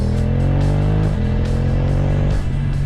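A BMW F900R motorcycle with carbon fairings accelerates hard, its loud, close engine note climbing and dropping sharply as the quick shifter clicks through gears without the clutch.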